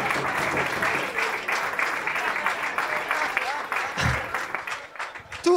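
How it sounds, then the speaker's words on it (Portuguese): Applause from a comedy show audience for a comedy duo, loud and continuous clapping that thins slightly toward the end, with a voice speaking over it. "Uma salva de palmas também para eles, que eles merecem"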